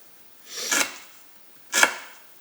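Two separate slicing swishes of a Spyderco Military knife with an S90V steel blade cutting through thick rope, each a brief, close rasping cut with a pause in between.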